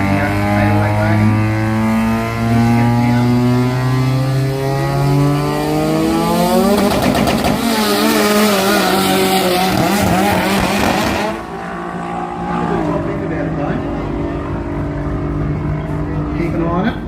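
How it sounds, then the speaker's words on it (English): Tim Hawkins' 808 wagon racing down a drag strip at a jamboree, a loud sustained engine drone that rises steadily in pitch through the gears, with a commentator talking over it throughout. "Tim Hawkins in the 808 wagon"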